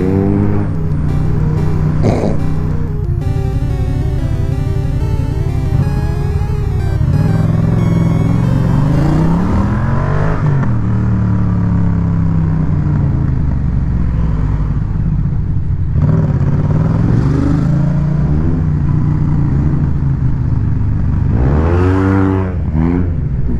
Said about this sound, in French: J'ai un T-Max à Krapovic